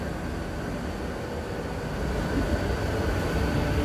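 A train at Girona station starting to move, a steady low rumble and hum that grows slightly louder as it gets under way, heard from the platform.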